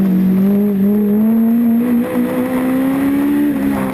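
Loud, steady engine note from a Honda race car at a national hot rod tour event in Pretoria, a sustained high drone with rising and falling pitch as it revs under load for the full stretch.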